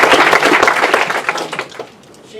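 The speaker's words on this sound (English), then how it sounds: "Just give her a clap too." An audience claps for a presenter at a talk: a dense, steady wash of many hands that carries loudly for about two seconds, then thins and fades out.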